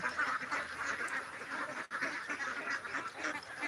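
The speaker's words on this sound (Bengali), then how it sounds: "আমার হাঁসগুলোকে কিছুক্ষণ পর খাবার দিব" Several domestic ducks quack steadily at a backyard duck shed, with dense overlapping calls continuing through the whole stretch, close and fairly loud, with no talking.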